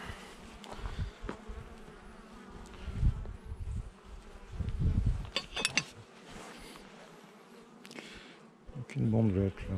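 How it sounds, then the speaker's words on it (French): Swarm of bees buzzing around a hive frame, a continuous droning hum close by with clattering knocks and handling noises, and a voice briefly heard. "Ah, j'ai compris, c'était un essaim."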